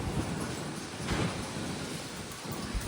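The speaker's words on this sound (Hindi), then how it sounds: "गाइस देखो कितनी जोर की आंधी आ रही है, सारे पर घने तेज आंधी आ रही है।" Strong windstorm roaring outdoors, a steady broadband rush of gusting wind that swells briefly and holds at a moderate, continuous level with no voices.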